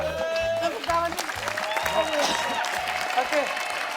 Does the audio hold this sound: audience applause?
yes